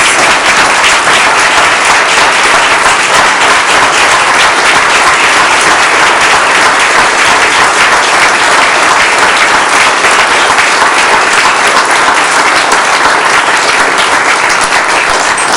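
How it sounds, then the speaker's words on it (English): Sustained applause from a large audience at a Board of Education meeting, dense and steady clapping filling the space without pause from start to finish. "Please stand up and give them a round of applause."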